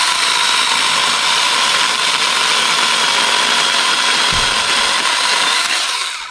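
A Saker mini chainsaw cuts through hard lilac wood with a loud, continuous high-pitched motor whine and buzzing chain. It is close and alone, then cuts off at the end.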